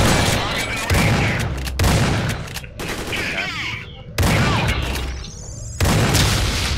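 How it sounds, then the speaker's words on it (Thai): Loud booming explosions and bursts of rapid gunfire crash in repeatedly in the video game Dead Effect 2, with brief lulls between the blasts. "ระเบิดอีกแล้ว"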